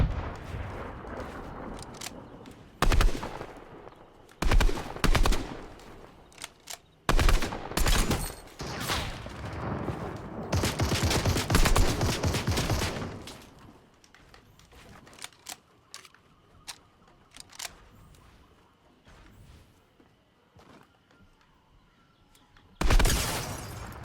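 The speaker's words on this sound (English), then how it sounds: "Did you pull out a minigun, bro?" Minigun fire in the Fortnite video game comes as loud, dense bursts of rapid shots spread across the stretch, with quieter gaps and scattered single shots between them.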